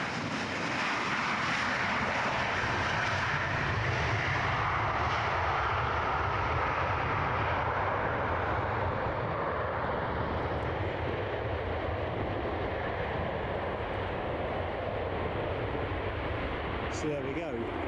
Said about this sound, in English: Joseph, your West Atlantic 737 is here